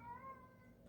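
Wilfred, a house cat, lets out a single drawn-out meow indoors that falls in pitch, very faint and distant against a quiet room.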